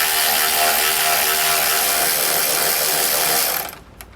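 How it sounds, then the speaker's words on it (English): A hand ratchet spins out a stiff bolt on a front anti-sway bar mount of a 2015 Winnebago Vista motorhome, a rapid, steady close clicking that stops abruptly near the end and leaves a brief faint click, with no talk. "you can just use your ratchet and just thread it on out of there"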